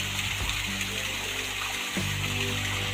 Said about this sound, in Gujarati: કૂવામાં પાણી ચાલુ છે, તળાવનું તળાવમાંથી આવે છે ને કૂવામાં નાખવામાં આવે છે.